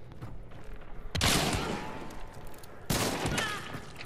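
Two loud gunshots from a shooter video game, spaced about a second and a half apart, each with a sharp broadband crack and a trailing decay over low ambient game noise.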